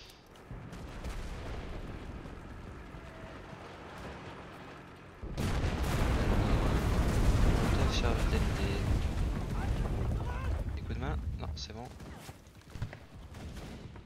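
Sustained gunfire and explosions from the video game Enlisted, a dense barrage of shots that grows louder midway and stays heavy, with scattered bursts near the end under a speaking voice.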